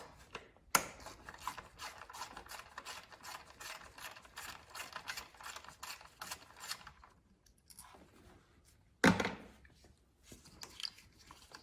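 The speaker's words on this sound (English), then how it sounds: "Now we can get a 10mm wrench in there and unscrew the coils." A 10mm wrench loosens ignition coil bolts on a Lexus RX350 engine with rapid, faint ratcheting clicks close by, then a short pause, a sharp clack and a few more scattered clicks.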